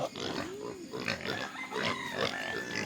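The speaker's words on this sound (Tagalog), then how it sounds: "Makain kami ng alaga namin ng mga baboy guys" Several pigs being fed on a farm, with oinks, grunts and squeals overlapping constantly and close by, while someone talks to them throughout.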